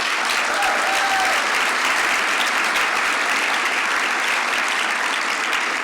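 A large audience claps steadily in a dense, continuous wash of applause at an awards gathering, loud and even throughout with no voices on top.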